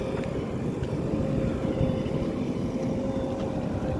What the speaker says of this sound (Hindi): कैसे अच्छी ज़मीन को JCB से खोद के निकाला जाता है